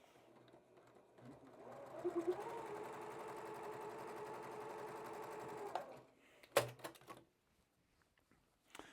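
A sewing machine stitches fabric triangles for a quilt block, a steady quiet mechanical hum for several seconds that stops abruptly, followed by a few handling clunks and near silence.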